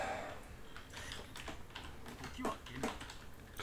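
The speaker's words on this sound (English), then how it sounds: "Excuse my mechanical keyboard." Keys clack on a mechanical keyboard, scattered quick taps with a few sharper strokes, quiet and close, while a faint voice murmurs beneath.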